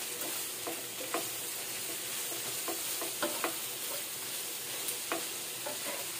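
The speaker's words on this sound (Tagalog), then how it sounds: "Lutuin natin yung gulay." Vegetables stir-frying in a pan for sotanghon guisado, a constant soft sizzle with intermittent scrapes and taps of the spatula, fairly quiet and close.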